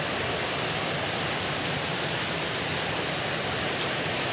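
Mountain stream babbling steadily, a dense, even rush of flowing water close by with no break and no voices.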